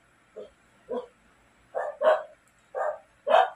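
A pet dog barks six times in short, spaced bursts. The first barks are softer and the later ones louder and close, with quiet gaps between them and no talking.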